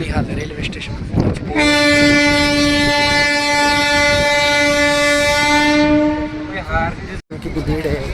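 A train sounds a long, loud, steady horn blast of several seconds at Banihal railway station, with crowd noise and voices before and after.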